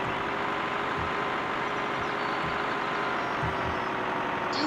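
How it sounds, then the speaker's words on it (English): A heavy truck engine in Farming Simulator 2013 drones steadily and loudly throughout, with a low rumble and faint beeping layered over it, and no speech. "Man, I'm in a big old truck thing."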